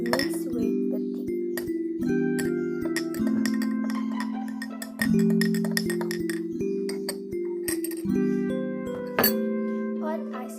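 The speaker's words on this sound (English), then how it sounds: "Then stir until the lemon flavor is mixed with the tea." Lemon iced tea is stirred in a glass, a spoon tapping and clinking against the sides in a fast, steady run of bright chimes that keeps ringing, close and clear, with no talking.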